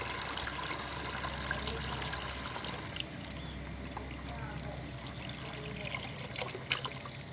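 Water gushes steadily from a garden hose being cleaned of algae, a constant rushing splash heard close and fairly quiet, with someone talking now and then over it.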